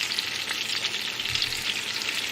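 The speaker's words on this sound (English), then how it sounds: "We got to let these cook in here. Wait, why are you frying them?" Meatballs fry in a large pot with a steady, close crackling sizzle that fills the whole stretch, with faint stirring and spattering and no voices.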